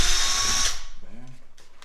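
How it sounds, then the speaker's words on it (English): A step drill bit bores into metal with a loud, high whine for under a second, then the tool spins down and a voice follows. "We'll go with this little step drill bit, step bit"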